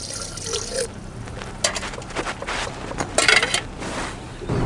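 Water splashes and trickles into a cooking pot in short bursts, close and fairly loud, with no talking.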